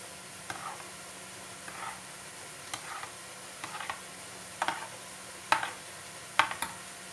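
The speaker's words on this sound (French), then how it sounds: "Je mélange tout et je rajoute tout ça à la sauce dans ma marmite." Tomato paste and olive oil are stirred together for a couscous sauce, heard as quiet intermittent scraping strokes of a spoon against a pot, growing sharper and louder toward the end over a faint low hum.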